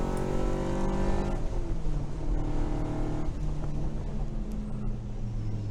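The Bromance Racing race car's engine drones steadily on track at a ChumpCar World Series endurance race at Mazda Raceway Laguna Seca, a sustained, somewhat distant roar that shifts in pitch.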